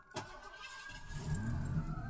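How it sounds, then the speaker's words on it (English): A 1984 Ford Crown Victoria engine starting: a brief starter crank and a sharp catch, then the engine settles into a smooth, low, steady idle, heard alone from close by. "so let's start the car back up"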